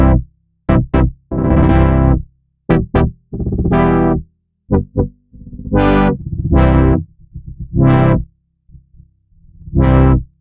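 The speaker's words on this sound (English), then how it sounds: "As we change the filter envelope, you'll hear a difference in the sound." Synth notes passed through a changing filter envelope, with short stabs and longer sustained tones alternating in an uneven pattern, the brightness shifting from note to note; distorted and close, no talking.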